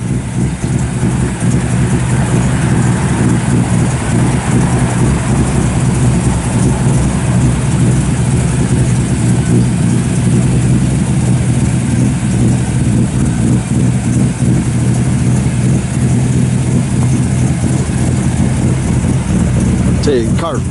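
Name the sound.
1956 Chevrolet 210 engine idling after starting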